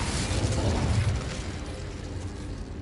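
The Incendio fire spell is cast in the wizarding game Hogwarts Legacy, a loud, close whooshing burst of flame that roars up at once and then fades gradually, alone without talk.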